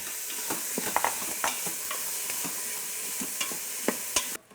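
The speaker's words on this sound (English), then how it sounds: "You're gonna saute this for about 5 to 10 minutes." Vegetables for a vegan jambalaya sauté in a hot pan, a steady close sizzle broken by frequent sharp clicks and scrapes of a spoon stirring, ending abruptly.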